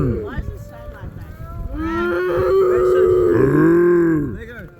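Cattle moo loudly and nearby, a long low drawn-out call rising and falling, with grunting noises mixed in.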